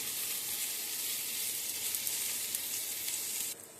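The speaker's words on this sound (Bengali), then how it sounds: "আরও একটা সরু করে কাটা ছোট ক্যাপসিকাম কুচি অ্যাড করে দিয়ে নাড়াচাড়া করে একটু কাঁচা ভাব যাওয়া পর্যন্ত ভেজে নেব" Thinly sliced small capsicum and onion paste fry in hot oil in a pan for a tangra fish curry, giving a steady, loud, close sizzle that runs unbroken until it drops off at the very end.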